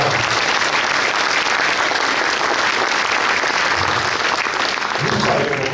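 Audience at a mayor's New Year reception in Auffargis applauding, dense continuous clapping from a large crowd, loud and unbroken throughout with faint voices mixed in.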